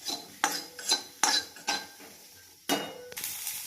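Sliced onions fry in a hot kadai for a gavran kala masala chicken, a spoon scraping and clinking against the pan in a steady rhythm over a soft, continuous sizzle, close and clear with no talking.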